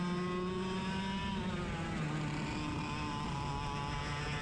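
Racing karts drive around a track with a continuous buzzing engine whine that rises and falls as throttle changes, fairly steady and moderately close.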